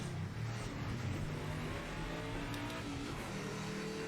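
A GT racing car slides in Project Motor Racing, its engine droning and revving at a fairly low level with a rough, buzzy tone and slight pitch changes over a few seconds.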